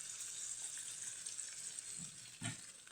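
Onions fry in a pan for a gravy with a soft, continuous sizzle, faint and close, with a couple of brief stirring scrapes near the end.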